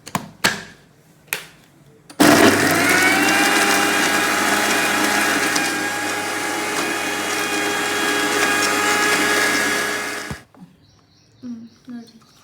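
A mixer grinder grinds turmeric and onion into a paste with no water added, a loud, steady whirring roar that runs for about eight seconds and then stops abruptly, with brief knocks and clatter before and after.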